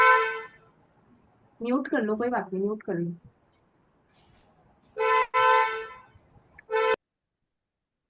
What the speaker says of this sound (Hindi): ये हॉर्न किसके तरफ से आ रहा है भाई